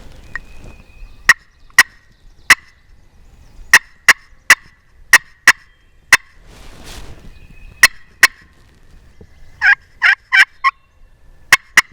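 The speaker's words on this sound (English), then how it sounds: "He just gobbled out on that ridge." A wild turkey gobbles out on a distant ridge, faint under loud sharp clicks and taps near the listener, with a quick run of harsher calls near the end.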